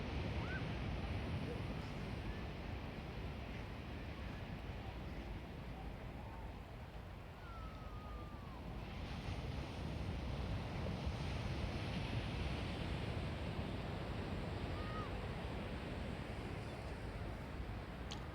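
Sea surf at Merkala beach in Tangier on an evening outing where people fish: a steady broad wash of waves mixed with wind buffeting the microphone, continuous and unchanging throughout.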